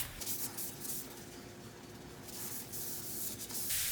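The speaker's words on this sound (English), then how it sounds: "We're just going to quickly go over the entire sword with that oil." An oil-soaked rag is rubbed briskly over a new wooden sword, giving a steady close scraping rasp that swells and eases in strokes, with a brighter swipe at the end.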